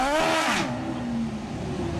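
An old Lotus race car at the Goodwood Festival of Speed revs hard, its engine note rising then falling into a steady drone, loud and close with no talk.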